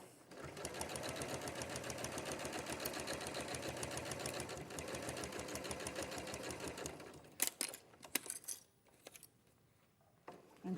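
Sewing machine stitching piping onto fabric, a fast steady mechanical chatter for about seven seconds that stops abruptly, followed by scattered clicks and handling noises.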